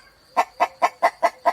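A rooster lets out six quick, evenly spaced clucks in a short rhythmic burst, loud and close with no voices over it.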